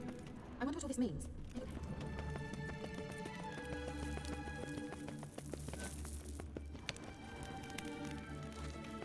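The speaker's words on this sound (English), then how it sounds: "Kelpie. Another horse." Horse hooves clip-clopping along in The Witcher 3 video game, a steady rhythmic trot mixed with game ambience, rain-like patter and a whinny, while people talk over it.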